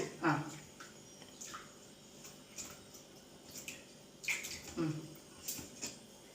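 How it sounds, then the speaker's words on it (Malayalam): Something is washed by hand under running water, with soft splashes, drips and wet rubbing in uneven bursts while a voice talks faintly over it. "കൈ കൊണ്ട് നന്നായി കഴുകും"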